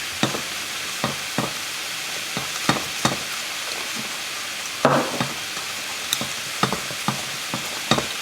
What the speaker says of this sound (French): On va faire cuire la farine comme ça